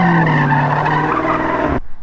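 A car spinning donuts screeches its tires in a loud, sustained skid with a wavering squeal, cutting off abruptly into near silence.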